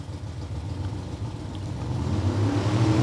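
At a hot rod reunion drag strip, an 82 Camaro and a 56 Chevrolet sit with their engines running, one engine note climbing steadily in pitch and growing louder as the revs build.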